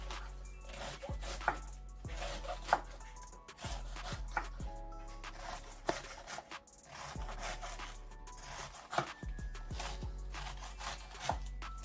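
A knife chops cabbage and onion on a cutting board in steady, repeated thuds with sharp percussive strikes, close and clear, no talking.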